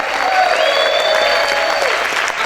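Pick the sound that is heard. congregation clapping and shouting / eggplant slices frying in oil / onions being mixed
congregation clapping and shouting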